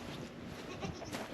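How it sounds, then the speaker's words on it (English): Goats bleat a few times at middling distance over a steady outdoor farm background, short wavering calls overlapping one another. "The goats are out and about."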